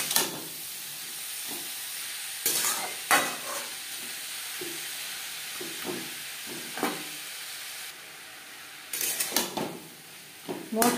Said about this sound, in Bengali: বিট গাজরের সাথে মশলা, লবণ, হলুদ বেশ ভালো করে মিক্স করে দেবো